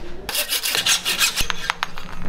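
A saw rasps steadily through a carbon bicycle part during a new rigid bike build, a loud, close run of rhythmic back-and-forth strokes that starts abruptly and continues with regular scraping pulses.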